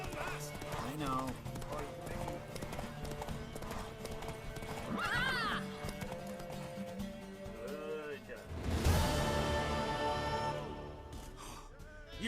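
Horse hooves clip-clop in a steady rhythm in The Witcher 3 game, with several loud, bright neighs and whinnies rising over the hoofbeats, plus a heavy whoosh near the end; character voices talk throughout.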